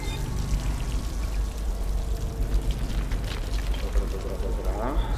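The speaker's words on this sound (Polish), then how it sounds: "Mogę za darmo upić trochę z kranu i dzięki temu odnowić sobie manę" Water pouring steadily from a tap in the video game Dishonored, a continuous close splashing stream with a faint voice murmuring underneath.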